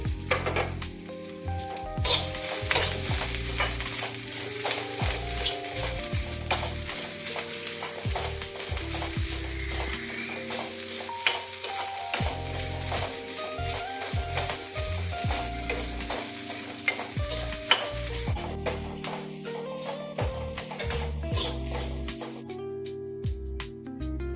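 Grated coconut roasts in a pan on the stove, giving a steady dry sizzle with frequent stirring and scraping scrapes throughout, fairly close and with no talking, while a thin background of tonal music runs underneath.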